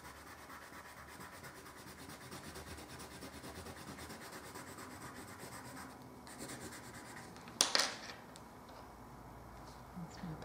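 Steady scratchy rubbing of a yellow colored pencil shading heavily across paper, continuous and close, with a brief sharper scrape near the end.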